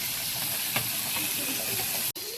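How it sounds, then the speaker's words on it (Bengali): Fish frying in a pan in a home kitchen gives a steady, moderate sizzle with a brief sharp crackle early on and a short dropout near the end. "তো এই তো মাছ ভাজা বসাই দিছি।"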